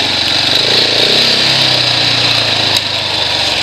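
A 2017 Husqvarna 701 Enduro motorcycle engine runs steadily nearby with a buzzy, high-pitched hum, heard alone.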